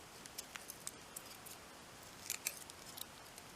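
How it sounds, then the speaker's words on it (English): Quiet, crisp snipping of scissors cutting excess resin off a pendant, a run of small clicks and snips scattered over a faint background hiss. "take my scissors and cut all this excess resin off like this."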